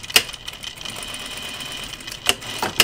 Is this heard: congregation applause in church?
no